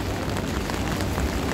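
Steady rain falling on a Hong Kong street, a dense, even hiss of drops spattering on surfaces close by, with no voices over it.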